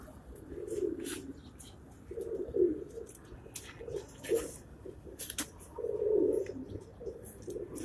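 Pigeons on a rooftop loft in Karachi give repeated low throaty coos in short bursts, about six across the stretch, close but soft, with faint scattered background clicks and rustles.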